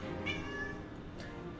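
A house cat meows close by, wanting to be let in: a couple of drawn-out, tonal meows, clear and alone with no voices.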